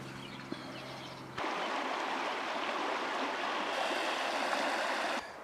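A small trout stream flows steadily nearby, with a brief quieter stretch at the start before the rush of water becomes loud and continuous, then it drops away at the very end.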